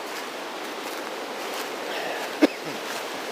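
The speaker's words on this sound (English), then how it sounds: "I don't know if you can hear the wind in the background" A steady outdoor rush of wind blows throughout, with a single brief click partway through and no talking.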